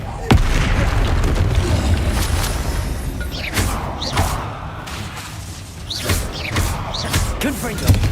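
Confringo spell explosions in Hogwarts Legacy, several loud booming blasts and bursts spread across the span over a dense, rumbling background of game action, with a voice calling out at points.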